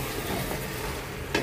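Mostly solid meat with a little fat, stirred as it fries in a pot for tehari, giving a brief, steady sizzle with faint scraping and one sharper scrape near the end.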